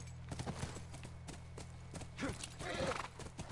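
Video game horse hooves clip-clop in an uneven trot over a low background hum, moderately close, with a brief horse snort or whinny near the end, from The Last of Us Remastered.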